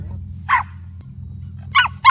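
A dog barks three times, with one sharp bark followed after a pause by two quick ones, fairly close and loud over a low steady engine-like hum.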